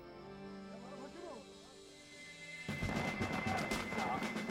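Gunfire from an Iraqi patrol erupts after a quiet stretch, a sudden dense burst of sharp shots and booms that keeps going, with a voice heard faintly before the firing begins.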